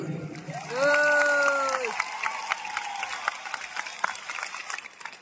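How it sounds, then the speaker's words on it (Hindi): Audience applause at a large stadium wellness-business event in India, opening under a loud sustained electronic tone or musical chord, then settling into scattered, fairly faint clapping with a few sharper individual claps. "अब तक की शानदार अगर ताली बजानी है तो हमारी असलीबीएस वेलनेस के लिए बजानी है।"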